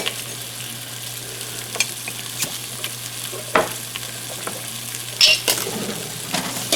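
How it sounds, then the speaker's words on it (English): Stew meat dredged in flour browns in a pan with a steady, close sizzle, broken by scattered scraping stirs and a couple of sharper clinks toward the end, with no one talking. "We're just going to let it sit, brown on one side, and then we're going to flip it over."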